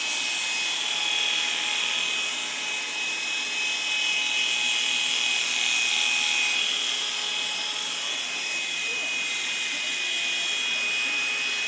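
Electric hair clipper buzzing steadily and close throughout a bald fade haircut, a continuous high whine with no talking.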